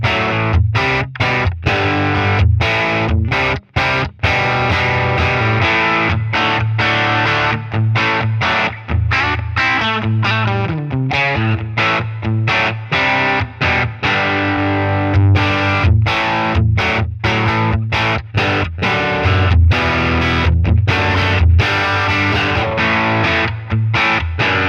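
Electric guitar played loud and sustained through a Helix amp model and cab with reverb, chords and riffs ringing on with brief choppy stops between phrases.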